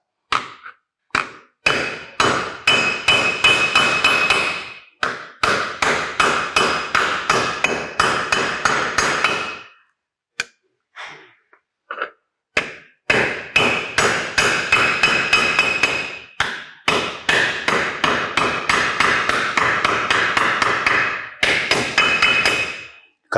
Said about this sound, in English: Then we hammer the top of the rivet to make it